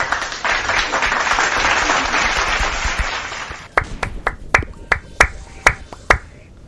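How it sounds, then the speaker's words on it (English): Applause fills the first half, then gives way to a series of sharp, distinct hand claps spaced about half a second apart. "has anyone ever heard that clap noise before? It's a specialty clap."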